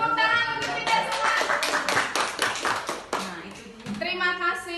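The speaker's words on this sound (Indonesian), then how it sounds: "tepuk tangan untuk kita semua" A group of people claps hands together in a meeting room, a burst of close, uneven clapping that rises and fades in waves, mixed with voices talking and laughing, then picks up again briefly.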